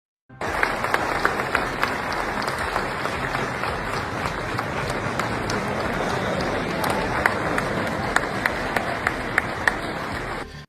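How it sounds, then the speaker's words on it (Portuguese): A large audience at the World Economic Forum gives Trump a standing ovation, long, dense clapping that starts abruptly and stays steady and loud with sharper individual claps popping through, no speech over it. "os convidados ainda aplaudiram Trump de pé"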